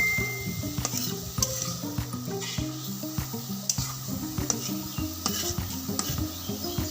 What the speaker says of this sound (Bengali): কড়াইয়ের মধ্যে আস্তে আস্তে করে নেড়ে চেড়ে আমি যে ভেঙ্গল থেকে যে পানিটা বের হচ্ছে পানিটা আমি শুকিয়ে নেব